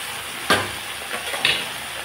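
Taro leaves and ground turmeric sizzle gently in a pan, a steady low frying hiss broken by a few short scraping stirs, the sharpest at the start and again near the end.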